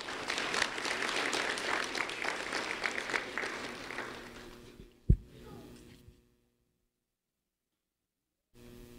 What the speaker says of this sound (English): a round of applause for Selena, please.